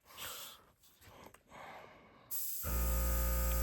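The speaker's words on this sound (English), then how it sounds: "I'm not too convinced by the airbrush." Airbrush spraying paint on a scale model, a soft hiss fed by its compressor, which kicks in near the end as a loud steady hum that takes over.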